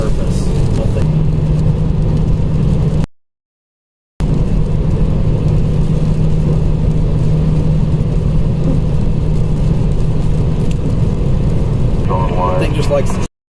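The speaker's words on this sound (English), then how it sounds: "Sorry, I've got a car next to me." A car driving alongside on a road, steady loud engine and tire rumble with a brief dropout, then a rising whir near the end.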